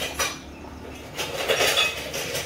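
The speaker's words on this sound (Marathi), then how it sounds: "पटापट मी रॅकमध्ये भांडी लावून घेतली" Dishes set into a kitchen rack after washing, giving a few soft clinks and clatters of utensils at close range, with no talking.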